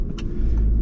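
A 2020 Audi A3 S Line 45 quattro with a four-cylinder engine cruising at ordinary speed, heard as a steady, continuous low rumble of engine and road noise from inside the cabin, with no one talking.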